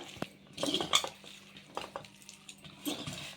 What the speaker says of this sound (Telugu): ఇవన్నీ మంచిగా కలుపుకుందాం ఇట్లా